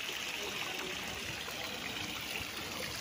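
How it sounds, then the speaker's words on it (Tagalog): Natural spring water flows steadily into a resort swimming pool in Liliw, Laguna, a constant soft rushing and trickling wash with no breaks. "Ito ay bukal mga kapraps ha, yung pinakita ko kanina."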